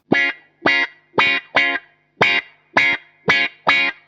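Eight sharply picked electric guitar notes pass through a Carl Martin Ottawa auto-wah pedal, each opening into a bright, quacking sweep with a punchy attack and brief pauses.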